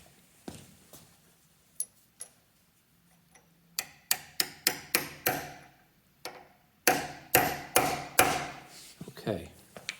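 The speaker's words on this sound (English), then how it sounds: "get a hammer and a punch" Sharp metallic taps ring out in irregular clusters, first sparse and then quicker, each strike close and crisp as a hammer drives a punch during a Monarch 10EE lathe refurbishment.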